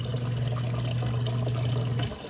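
Water runs steadily into a small portable washing machine with a constant low hum underneath, a continuous filling sound that stops near the end.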